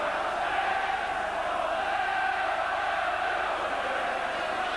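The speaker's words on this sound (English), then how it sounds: "The crowd, the St Helens section, roaring out when the Saints go marching in" St Helens rugby league supporters roar and sing as a massed stadium crowd, a thick, steady wall of voices heard from a distance at a cup final against Leeds.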